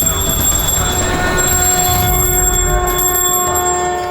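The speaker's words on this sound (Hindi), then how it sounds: "पूरी कंदरा घंटी, शंख और मंत्रों से गूंज उठी।" Temple bells ring inside a cave shrine during evening aarti worship, a sustained metallic clang with long steady overtones filling the space continuously and loudly, with no voices.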